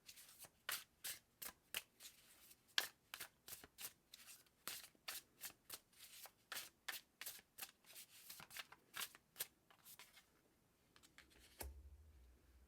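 Tarot cards are shuffled close up in quick, steady bursts of riffling and snapping, repeated dozens of times, quiet and without speech.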